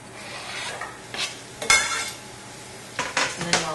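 Onions stirred into olive oil in a warm pan, giving a low steady sizzle with several sharp scrapes of a utensil against the pan, the loudest bursts near the start and again toward the end.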